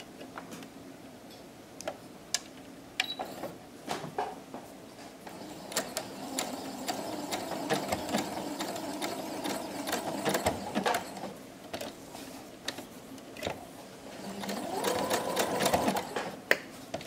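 A sewing machine stitches down a small quilt piece for a dollhouse bathroom block, with tracing paper laid over it. The motor whirs in steady runs, with ticking needle strokes and short pauses, close and fairly quiet.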